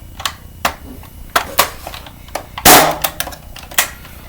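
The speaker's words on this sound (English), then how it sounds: "keep in mind this blaster is very loud" Dart Zone Aeon Pro foam dart blaster with a strong spring, dry-fired and primed repeatedly, giving a series of sharp, loud snapping cracks at irregular intervals, with one heavier burst near the middle and clacking handling noises between shots.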